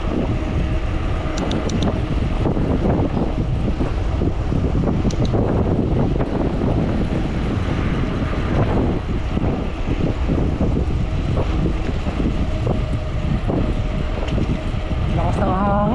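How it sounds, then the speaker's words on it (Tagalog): Strong wind at Upper Seletar Reservoir, Singapore, buffets and roars across the microphone throughout, a loud, constant rumble with gusty fluctuations. "Lakas ng hangin."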